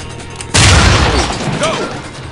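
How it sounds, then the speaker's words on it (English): A breaching charge detonates in SWAT 4, one sudden loud blast that roars and rumbles as it decays over about two seconds, with faint voices underneath. "Prepare for detonation."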